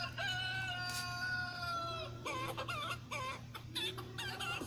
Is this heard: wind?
no